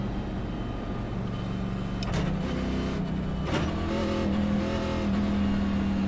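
NASCAR engines roar in the iRacing simulation at Talladega Superspeedway, a steady droning engine hum with pitch shifts and a couple of sharp whooshing pass-bys.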